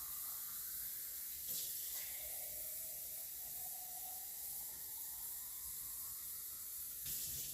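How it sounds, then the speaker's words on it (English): Water pours in a steady, even rushing hiss into a stock pot holding chicken broth, continuous for several seconds at a moderate level with no voices. "I usually put about 4 more cups of water in it to get it up to about halfway point"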